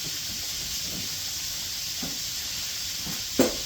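Italian sausages sizzle in a hot pan, a steady close hiss of frying fat running throughout with a few soft pops and a brief louder crackle near the end.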